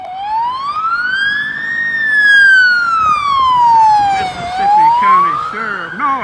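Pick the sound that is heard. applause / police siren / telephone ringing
police siren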